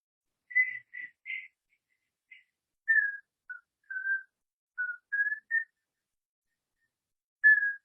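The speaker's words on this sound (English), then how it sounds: "begin to whistle loudly the Guru Ram Das chant" Whistled melody of the Guru Ram Das chant, a series of clear, fairly loud sustained notes and short phrases with brief pauses between, alone without talk.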